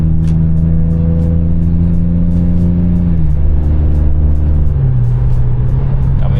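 Engine drone of a 2002 BMW E39 530i on the road, heard from inside, a steady loud hum whose pitch holds and then drops in two steps as it shifts or slows, with no talking.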